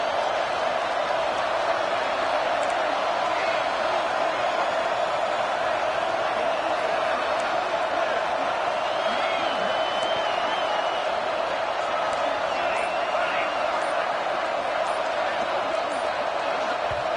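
A stadium crowd at a football game roars steadily and loudly throughout, a dense, continuous wall of noise during a fourth-down attempt that forces a false start, with no clear pauses.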